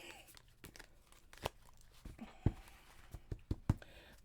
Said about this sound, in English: Let me shuffle one more, get a good shuffle on these.